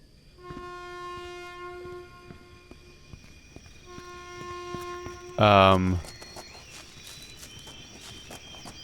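A train in the video game INFRA, with a rumbling, clattering passage under steady tonal hum, then a sudden loud, brief horn blast near the end.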